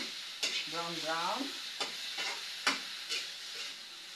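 Lotus root (takway) is sautéed in a pan, with a quiet background sizzle broken by sharp utensil scrapes and taps as it is stirred. A brief voiced sound rises early, and the rest is faint and close.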